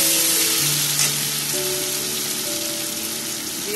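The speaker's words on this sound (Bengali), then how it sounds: "এটা ভাজা হয়ে গেছে ভালো করে ভেজে নিতে হবে" Food fries hard in a pan, a loud continuous close-up sizzle with a rain-like hiss and no pauses.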